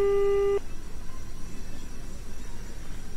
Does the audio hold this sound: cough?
no